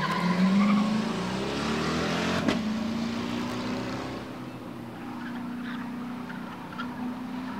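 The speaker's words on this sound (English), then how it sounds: "Ben Shaddle in his 92 Corvette out of Belvedere" A 1992 Corvette launches at the start of a spectator drag race at Rockford Speedway, engine roaring loud and steady as it pulls away with a rising pitch, a sharp crack near the middle, continuous for several seconds without talk.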